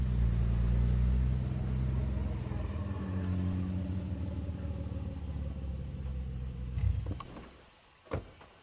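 A car engine in the State of Decay video game idles and rumbles steadily at close range, then cuts off near the end, followed by a brief mechanical clunk; no talking.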